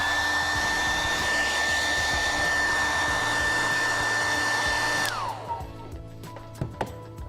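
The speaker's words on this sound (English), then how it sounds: "what you want to do is dry the area." A hair dryer blows steadily on worn leather bag corners, a loud close whirring that cuts off after about five seconds, leaving quiet handling noises.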